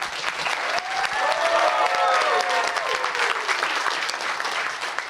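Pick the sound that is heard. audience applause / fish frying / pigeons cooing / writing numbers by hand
audience applause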